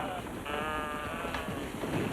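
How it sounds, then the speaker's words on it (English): A sheep lets out one long, wavering bleat over a quiet farmyard background, fairly close, with no talking; a goat is penned with the sheep. "How come you have a goat in there with the sheep?"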